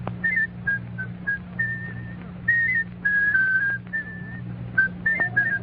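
On a 1940 NBC radio show, a man whistles a tune in clear, bright phrases with short breaths between them, over a steady low broadcast hum.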